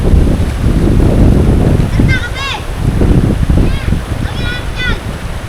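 Strong wind at a campsite roars and buffets the microphone in a constant low rush, with children's voices and whistle-like calls faintly audible over it.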